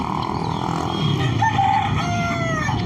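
An Aseel rooster crows once at moderate distance over a constant farmyard background hum, with other fowl faintly audible.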